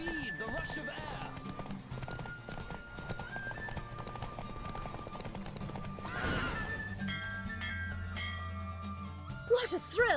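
Galloping hoofbeats from a racing horse in The Witcher 3 drum steadily under swelling music, a whinny rising midway and a sharp clatter near the close.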